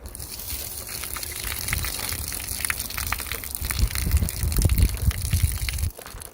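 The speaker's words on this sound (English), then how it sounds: "Now I'm kind of trying to wring the clothes." Wet clothes wrung out by hand while washing laundry in a van: continuous close squelching, dripping and splashing of water, growing louder toward the end before a sudden drop.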